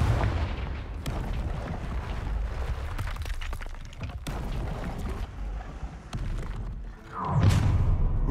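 Confringo fire spell blasts in Hogwarts Legacy, a run of sharp explosive cracks and thuds over rumbling game ambience, ending in a louder burst.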